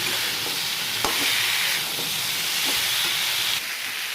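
Boiled chickpeas stirred in a pan of hot oil, a steady broadband sizzle running throughout with a few soft scrapes of the spoon, close and fairly loud, no voices.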